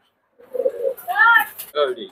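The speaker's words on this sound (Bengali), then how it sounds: "এই এক জোড়া টেডি কবুতর, এই মাশাআল্লাহ ফ্লাই হবে" A pair of Teddy pigeons coo in a few short, close, rounded phrases with brief pauses between them.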